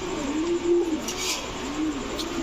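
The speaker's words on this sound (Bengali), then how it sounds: "চকলেট দম সাহারানপুরি একটা মাদি কবুতর" A Saharanpuri hen pigeon of the chocolate or red colouring coos close by, two soft, throaty rolling calls with a pause between them, alone over light background noise.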